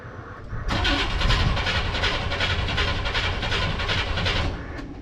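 A FiTech fuel-injected 1957 car being cranked but not starting: the starter whirs steadily and loudly for about four seconds, and the engine never catches.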